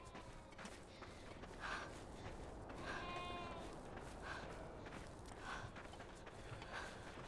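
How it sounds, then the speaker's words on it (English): Sheep bleat on a farm in the video game Beyond Two Souls. Several short, faint bleats repeat at intervals over a quiet background. "Gotta feed the cows and sheep and goat and birds and all the beasts on the farm."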